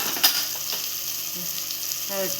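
Onion and tomato cooking in a pan for a prawn rice dish, a steady soft sizzle running throughout with a few faint clinks of stirring, close and moderately quiet, with no voices.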